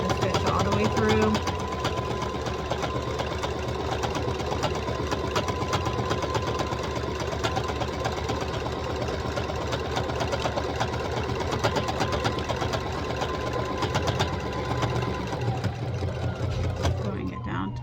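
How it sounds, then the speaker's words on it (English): A sewing machine stitches fabric for a DIY sugar glider tunnel, its motor whirring steadily for about fourteen seconds before slowing and stopping, with some quiet talk alongside. "I'm just going to continue to stitch all the way through"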